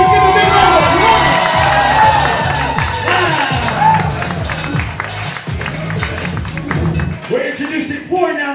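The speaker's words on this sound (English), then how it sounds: "Let's give a big round of applause." Audience applause and cheering break out during a live stage performance, loud clapping and crowd shouts under a host's excited talk and ongoing music, fading out near the end.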